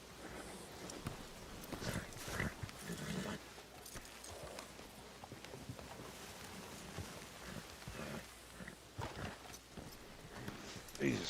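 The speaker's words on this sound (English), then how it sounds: "I thought when you owned a horse they'd listen to you and weren't all wild and rambunctious like this" Horse hooves clip-clopping in the RanchRP game as a restless, rambunctious horse moves about, with irregular thuds and steps under a steady bed of ambient noise, while someone talks over it.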